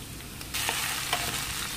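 Garlic, onion and tomato sauté in a pan with a continuous sizzle that swells louder partway through, broken by a few soft stirring scrapes and taps, and nobody speaking.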